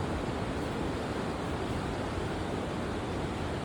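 Sea waves wash steadily onto the shore beside a hillside footpath, a dense, continuous roar of surf with some wind, loud and close throughout without a break.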